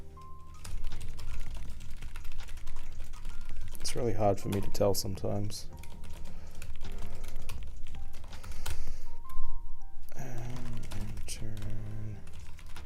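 Keys clatter on a computer keyboard in steady, fast runs beneath a man's ongoing speech and quiet background music while he codes a TypeScript game engine.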